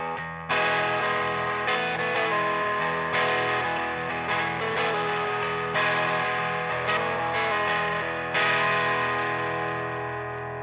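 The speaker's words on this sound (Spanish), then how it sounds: "Voy a bajarle al gain para que más o menos tengan una idea del rango de distorsión que puede llegar a tener." Electric guitar played through a Paradox Effects Terran overdrive pedal at lower gain, a steady stream of mildly distorted chords and riffs with sustained notes, loud and continuous with no talking.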